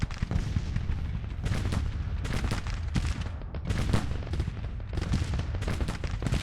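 Dense artillery and rifle volleys from a Civil War battle video game, with a ten-gun artillery battery firing near Richmond; booms and crackling musketry pound continuously, loud and close, with no pauses.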